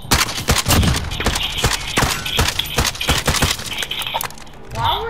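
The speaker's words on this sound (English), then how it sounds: "Why were you shooting?" Video game gunfire in a Search and Destroy match: rapid, loud bursts of shots crackle densely through most of the clip, ending in a brief quieter stretch.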